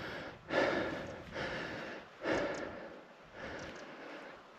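Heavy, labored breathing from a hiker climbing a steep uphill trail near Roquefixade in cold weather, four strong rhythmic breaths close to the microphone with no talking.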